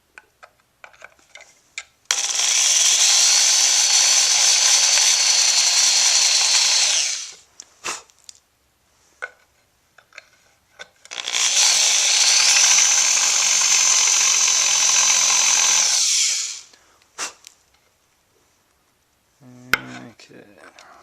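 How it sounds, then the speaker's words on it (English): A drill bit cuts countersinks for screws on a Ferrari 348 during a cam belt change, in two sustained high whining runs of about five seconds each, separated by clinks and handling noises close by. "they send you a drill bit for doing a sort of a countersink on the back side for the screws"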